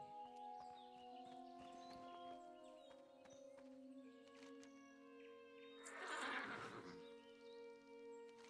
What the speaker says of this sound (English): Oh, let's buy a horse.